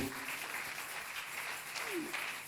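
A church congregation claps and cheers in worship, a steady wash of applause that sounds somewhat distant, with voices mixed into the crowd noise.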